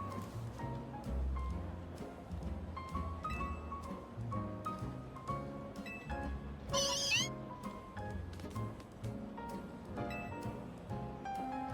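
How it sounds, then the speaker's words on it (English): Galarian Meowth cry in Pokemon Legends Z-A, a short synthesized meow heard amid game music that plays throughout. "I've yet to see Galarian Meowth in this game"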